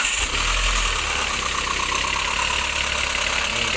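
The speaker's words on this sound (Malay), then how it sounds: "Okey, start enjin." A Proton Campro car engine starting and then idling roughly, with a steady, harsh mechanical clatter and a faint ticking from a suspected jammed valve shim, recorded up close without speech.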